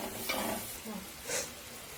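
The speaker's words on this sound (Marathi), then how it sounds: "तर आता मी लगेच खोबरं टाकून घेणार आहे आणि खोबरं चांगलं परतूच" Grated coconut stir-fried in a pan for a patra leaf vegetable dish, giving a steady soft sizzle with a few scraping stirs of a spoon, close and moderately loud with no voices.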